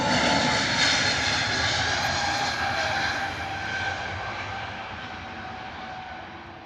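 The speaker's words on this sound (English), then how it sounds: "Lovely departure there from our Aer Lingus A320 Neo, heading out to Cork this morning." Aer Lingus Airbus A320neo jet departing Heathrow for Cork, a loud steady engine roar with a rising whine that slowly fades as the aircraft climbs away.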